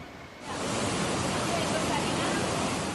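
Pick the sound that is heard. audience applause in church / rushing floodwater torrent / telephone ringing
rushing floodwater torrent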